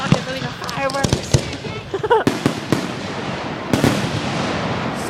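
Fireworks burst overhead at an outdoor show, a series of sharp loud cracks and booms with crackling fizzes between them, while people shout and talk nearby.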